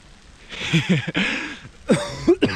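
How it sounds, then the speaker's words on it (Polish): Two rough, raspy coughing fits, the first longer and the second a few harsh hacking bursts, loud and close. "kaszel palacza"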